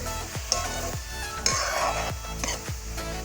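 Washed lentils stirred and mixed in a pot with no oil, a utensil scraping the base in steady repeated strokes about once every half second to second, close and fairly loud, with faint sizzling beneath.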